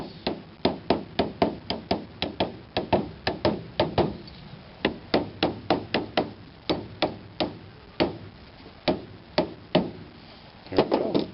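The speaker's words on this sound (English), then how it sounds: "Take a little hammer and chase." Repeated sharp taps of a small hammer on a wooden Warre hive top bar, coming in quick bursts of several strikes with short pauses between, close and crisp.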